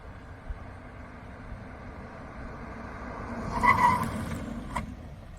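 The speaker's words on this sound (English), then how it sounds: "another student practices activating the anti-lock braking system in case they have to stop quickly" A car brakes hard with its anti-lock braking system engaged during a student stopping drill: a steady low vehicle rumble builds to a brief tire squeal and chatter midway, then fades.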